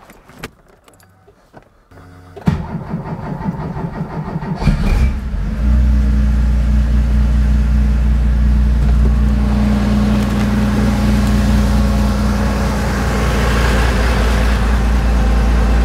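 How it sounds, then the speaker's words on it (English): Porsche 911 2.8 RSR engine being started after a rebuild: a clink of keys and a brief cranking, then the engine catches at about five seconds and settles into a loud, steady, close idle that continues to the end. "See if it will actually start again, if I've done it all properly and it all works."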